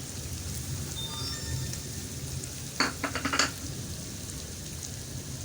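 Green chillies and red tomatoes fry in a pan for a vegetable handi, giving a soft steady sizzle close by, broken briefly by a few quick clinks of stirring in the middle.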